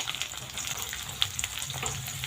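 Cut potatoes with salt and turmeric fry in a pan, a bright continuous sizzle with small crackling pops and an occasional light stir, close up and without speech.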